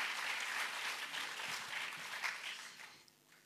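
Audience at the West Web Festival 2016 applauding as a speaker is welcomed to the stage, dense steady clapping that fades out toward the end.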